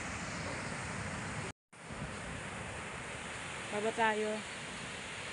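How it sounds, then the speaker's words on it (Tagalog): Broadband surf and wind roar from moderate ocean waves off a fishing boat at sea, steady and fairly loud, broken by a brief gap, with a voice speaking over it near the end. "Hindi naman masyado na malaking alon."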